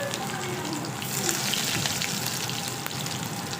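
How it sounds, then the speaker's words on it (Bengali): Cumin, dried chili, chopped onion and garlic frying in oil in a kadai, a dense, steady sizzle close by with no talking. "এবার দেখুন, কড়াইতে জিরে, শুকনো লঙ্কা আর পেঁয়াজ কুচি, রসুন কুচি"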